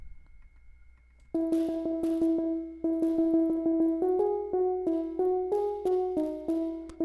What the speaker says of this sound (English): And then lastly, the synth.